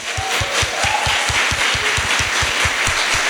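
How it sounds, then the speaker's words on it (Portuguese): Congregation applause in a Portuguese-language church service, loud clapping with a steady rhythmic beat running under the dense crowd noise, no talking. "Dá uma salva de palmas para elas."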